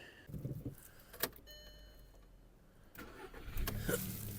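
A 2007 Volkswagen Golf 5 1.6 MPI engine cranks briefly and catches, settling into a running idle after a few seconds of quiet clicks and whirring.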